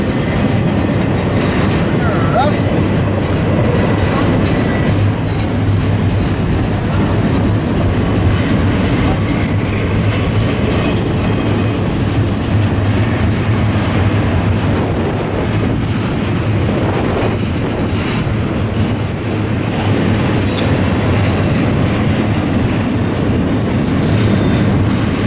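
A long Union Pacific double-stack container freight train rolls past close by, a loud steady rumble with rhythmic clickety-clack of wheels over rail joints and occasional high wheel squeal near the end.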